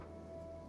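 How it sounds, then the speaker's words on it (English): Acid rain falls in the Kenshi video game as a steady, faint hiss of rain with a low constant hum beneath it, and no voices. "Oh, good. Acid Rain."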